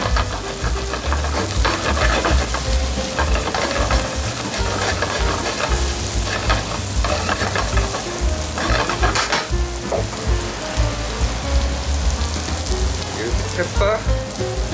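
Sea bass pan-fries over a high flame with mushrooms and butter, giving a loud, continuous crackling sizzle with occasional stirring clatter. The sound runs close and steady throughout, with no voices.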